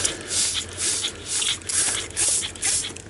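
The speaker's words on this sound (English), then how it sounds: "it's just a matter of spraying them off" Bursts of hissing spray in quick pulses, about five or six in three seconds, close up, with faint wet splatter between them, as gold-recovery flakes are sprayed off metal CPU socket parts.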